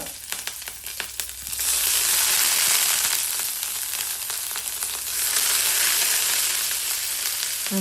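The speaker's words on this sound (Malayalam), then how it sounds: "എന്നിട്ട് ഡ്രൈ റെഡ് ചില്ലീസ് മൂന്നെണ്ണം ഇടുക സോട്ട് ചെയ്യുക എന്നിട്ട് കറിവേപ്പില ഇടുക പച്ചമുളക് ഇടുക" Dry red chillies, curry leaves and green chillies crackle and sizzle in hot oil in a pan, a steady loud frying hiss that swells after a brief stir, close up and without talk.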